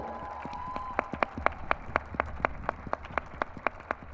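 An audience at a film festival panel applauds, producing rhythmic clapping at a steady beat, moderately close, with a brief voice at the start.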